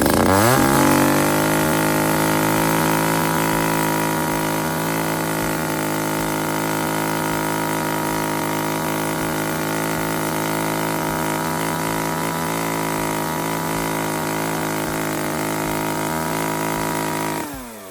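A STIHL MS194TC-E top-handle chainsaw revs at full throttle with no load, a loud, steady high-pitched engine whine that holds for most of the stretch before cutting off at the end, with no one talking.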